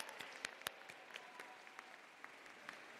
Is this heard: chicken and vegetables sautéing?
no